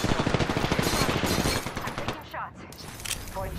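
Rapid automatic gunfire from the battle royale shooter Apex Legends, dense loud bursts for the first couple of seconds, then trailing off into scattered shots and impacts.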